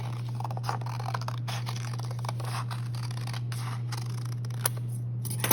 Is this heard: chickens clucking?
no